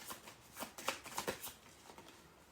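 Tarot cards flick and riffle softly up close as one is drawn from the deck, a brief run of light, papery shuffling taps.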